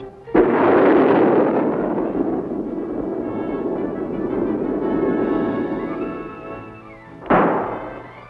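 A Chaparral air defense missile system test firing at Fort Bliss, Texas: a sudden loud blast followed by a long roaring rush that slowly fades, then a second sharp burst near the end.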